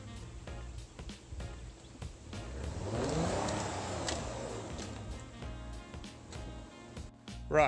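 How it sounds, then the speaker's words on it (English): A car stuck in a quarry revs its engine as the back wheel spins and slides in circles, a sustained rising and falling roar with scattered scrapes and clicks throughout, fairly distant and moderate in level. "still can't get the back wheel unstuck. Just keeps sliding in circles"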